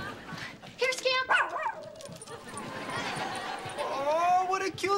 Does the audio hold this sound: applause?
no